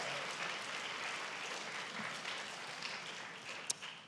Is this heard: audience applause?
yes